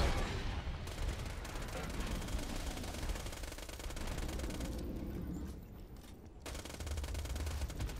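Modded Hyperion submachine gun from Borderlands 2 firing in long rapid bursts, a dense, steady rattle of shots with a short pause near six seconds, moderately loud and unbroken by talk.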